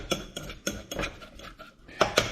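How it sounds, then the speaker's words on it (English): A utensil quickly whisked through avocado oil in a bowl, rapid clinks and scrapes against the side in a quick irregular rhythm, close and alone with no talking. "We're going to quickly stir this."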